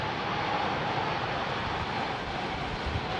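An airliner takes off with derated thrust at London Heathrow during Storm Franklin, its engines making a steady, loud broadband roar with a low rumble that holds throughout, close by and without any talk over it.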